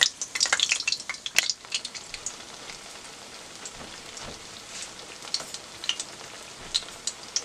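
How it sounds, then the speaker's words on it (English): Cornmeal fritters (sorullitos de maíz) fry in hot oil with a steady crackling sizzle and scattered louder pops, close and continuous with no talking. "And I'm gonna fry all of them"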